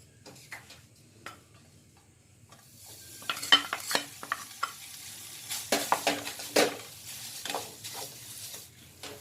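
Khoya being stirred continuously in a pan while browning for gujiya filling: quiet at first, then repeated scraping and clinking strokes of a spoon against the pan with a soft sizzle underneath, growing busier toward the end.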